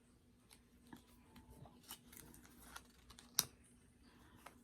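Soft, close-up papery riffling and light taps of a tarot card deck being shuffled, with scattered clicks and one sharper snap, very quiet overall.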